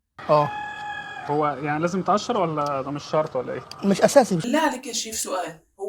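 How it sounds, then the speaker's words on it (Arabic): A rooster crows in the background, a drawn-out call rising and falling, while people talk over it in a kitchen where a cream gateau is being made. "سامع صوت ديك عمال يصيح"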